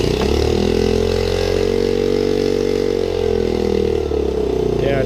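Honda 2.3 outboard motor, warm with the choke pushed in, fires and runs at a steady idle, a loud continuous engine drone close by with no talk over it.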